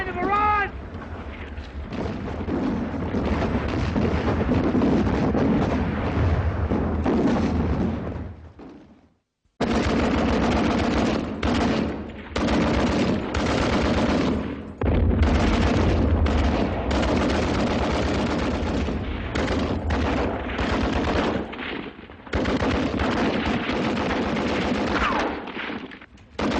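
A war drama battle scene with a sustained artillery barrage and dense machine gun fire, loud and continuous with rapid bursts and booms, broken by one brief pause, with shouted voices mixed in.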